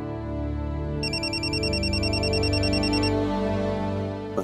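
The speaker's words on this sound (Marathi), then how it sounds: "पंक्याचा फोन." A mobile phone rings with a steady looping electronic melody, loud and close, with a high warbling tone joining partway through and no voices.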